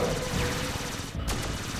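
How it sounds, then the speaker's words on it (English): Battle effects from the video game Super Robot Wars 30, a dense wash of rapid explosion and impact bursts over a continuous roar, with a sharp crack near the middle, loud throughout. "does he have the explosion for every attack?"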